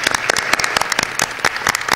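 An audience applauds young students at a school community event, a dense, steady patter of many hands clapping close by for about two seconds with no pause.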